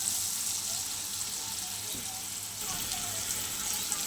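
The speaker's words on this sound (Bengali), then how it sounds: "বেশ উচ্ছেটা একটু ভাজা করে নেব" Bitter gourd fries in a pan with a dense, continuous sizzling hiss, close and steady, with faint scattered crackles and no clear voices.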